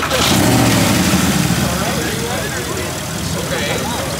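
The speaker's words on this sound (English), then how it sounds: "I gotta rev the Porsche." A Porsche engine roars loud and close with a steady heavy growl that eases slightly toward the end, while people talk over it outdoors on a cold day.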